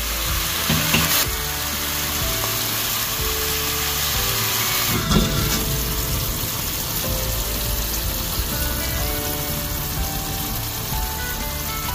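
Bangus (milkfish) steak frying in a pan gives a loud, steady, dense sizzle with occasional crackles throughout, alone with no talking.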